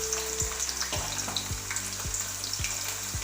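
Sliced onions fry in a pan for egg burji, with a dense, close sizzle broken by regular scraping strokes of stirring roughly every half second, and no voices.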